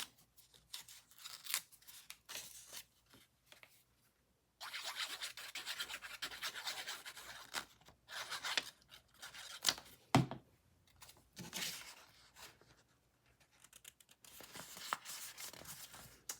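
Scissors snip and rasp through scored paper for a junk journal pocket folio, with repeated scraping cuts coming in bursts and brief pauses, close and fairly quiet.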